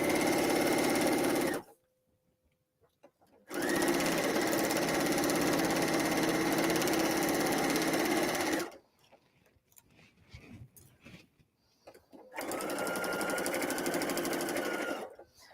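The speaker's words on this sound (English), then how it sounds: "You don't necessarily have to do directional stitching like I'm doing, but it's a habit, so I just do it that way." A sewing machine stitches fabric for an insulated tea cozy in three loud bursts of rapid whirring and needle clatter, separated by quiet pauses with small handling clicks.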